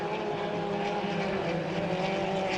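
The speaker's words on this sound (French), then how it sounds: "Le drone qui revient, qui rentre au bercail." A camera drone flies back at a hydroplane race, its steady propeller whine and tonal buzz loud and continuous, blended with engine roar from the course.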